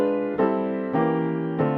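A melody sounds on piano in drop 2 voicing, three rich sustained chords struck in a slow sequence and ringing on their own without talk.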